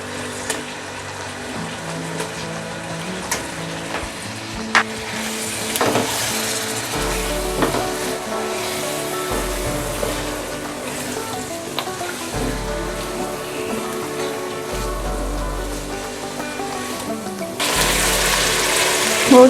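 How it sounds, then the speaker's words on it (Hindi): Half a kilo of chicken sizzling steadily in a pan for aloo chicken, a continuous close frying hiss with occasional stirring clatter and no talking. "गोश्त को हमने काफ़ी देर फ्राई कर लिया, इसका कलर चेंज हो गया।"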